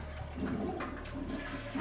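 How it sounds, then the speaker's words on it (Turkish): A toilet flushing nearby, with a steady rush of water that runs throughout at a moderate level, and no talking. "Sifonu da çekmedik galiba."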